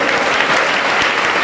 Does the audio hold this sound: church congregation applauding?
yes